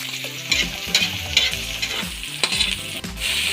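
Tomatoes are stirred into onions frying in a pan for sarciado salmon belly, giving a close, steady sizzle with repeated scraping strokes of a spoon against the pan and no talk.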